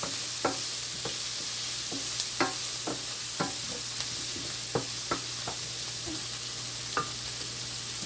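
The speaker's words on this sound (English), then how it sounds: "Let the onion saute a bit." Chopped onion sautéing in a pan for a white pasta with shrimp dish: a steady close sizzle with a string of sharp utensil taps and scrapes from stirring, no voices.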